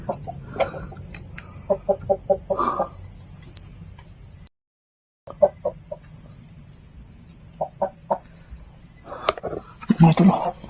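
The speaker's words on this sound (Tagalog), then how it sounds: "Hala, may boses ng manok pa ito." Chickens cluck in short repeated bursts from a hut at night, some calls close and others quieter, over a steady chirring of crickets with a brief dropout partway through.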